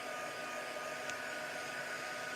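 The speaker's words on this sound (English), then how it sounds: "my heat gun." A heat gun blows with a steady, even whoosh while drying 250 GSM cardstock on a craft table, a constant airy hiss throughout with no voices.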